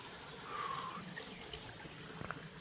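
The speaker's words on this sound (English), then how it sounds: "I got to show this beautiful little creek coming down." A small feeder creek runs downhill through a mountain biking area. It makes a faint, steady trickle and wash of water, heard alone with no voices.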